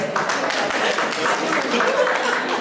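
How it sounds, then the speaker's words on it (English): Audience at a paediatric society gathering in Ghana gives a steady round of applause, dense claps filling the whole stretch with voices murmuring underneath. "Shall we give him a round of applause?"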